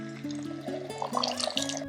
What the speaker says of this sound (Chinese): 倒入开水没过食材